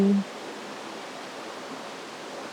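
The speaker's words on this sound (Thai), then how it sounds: "เสียงน้ำไหลตลอดเวลา" A stream flows steadily beside a forest house in Pa Miang, Lampang, making a constant soft, even rushing hiss with no other sounds.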